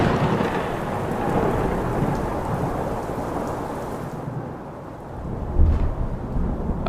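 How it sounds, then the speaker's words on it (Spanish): Heavy, steady rain from Hurricane Mitch pours down in Nicaragua with deep rumbling thunder throughout, the downpour easing slightly before a low thunder boom near the end. "La incesante lluvia causó daños considerables."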